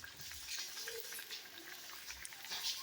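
Banana flower vadas sizzle and bubble in hot oil with a soft, steady crackle and faint spitting, quiet and close.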